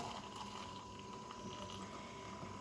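Water poured into coffee in a cup while making breakfast, a steady close gurgling fill heard alone over a short, continuous stretch.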